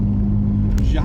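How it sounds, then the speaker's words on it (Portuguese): A 2003 Gol Power engine with a straight-pipe exhaust replacing the stock muffler rumbles in a steady low drone while moving slowly, close and fairly loud, briefly swelling near the end. "Já com o cano reto na parte de trás, substituindo lá o silenciador original"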